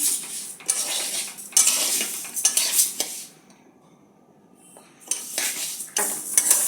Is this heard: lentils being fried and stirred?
yes